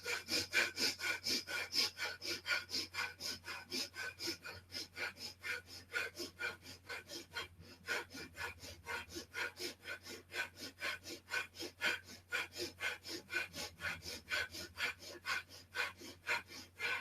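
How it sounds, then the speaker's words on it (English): Rapid, forceful yoga breath-of-fire breathing, with a steady stream of short rhythmic exhalations pulsing for the full stretch, close and fairly loud, with no talking. "This is a good place to do the breath of fire."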